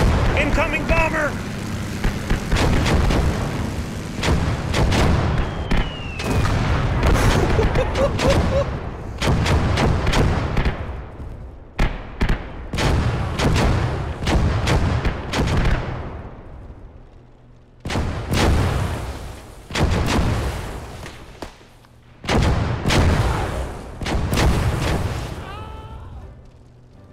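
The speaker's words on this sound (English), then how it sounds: "Incoming mortar rounds." Mortar rounds and artillery shells blast repeatedly in a WWII combat game set among hedgerows, heavy booming impacts stacking in a dense barrage with brief lulls, under voice chat.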